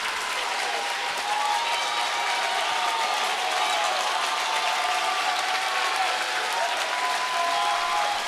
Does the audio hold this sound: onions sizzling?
no